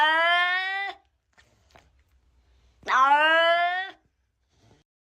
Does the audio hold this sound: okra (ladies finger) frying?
no